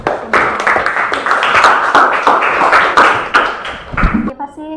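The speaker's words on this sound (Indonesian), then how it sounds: "Tepuk tangan lagi untuk semuanya." Students in a classroom clapping together, a few seconds of brisk, fairly loud, uneven hand claps that stop abruptly, with voices heard near the end.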